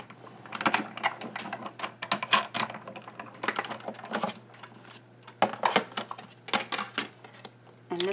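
Paper and a cutting die pass through a die cutting machine, producing a close series of irregular clicks, ratcheting taps and bursts of mechanical clatter with short pauses between.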